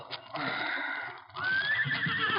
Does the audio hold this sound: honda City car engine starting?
no